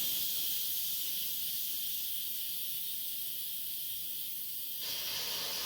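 Steam vents from a cooker full of corned beef and cabbage as a steady, hissing rush that lasts about five seconds and shifts slightly near the end, with no voices.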